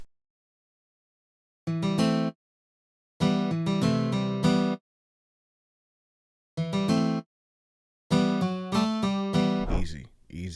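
A Comp Steel guitar sample from the Xenology library plays short twangy phrases in four separate bursts with silences between, clean and close, in an early 2000s beat style.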